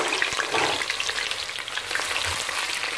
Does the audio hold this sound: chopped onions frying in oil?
yes